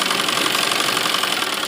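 An electric sewing machine runs continuously while stitching the lining of a heavy suit, a steady rapid whirring hum, close and loud, with no talk.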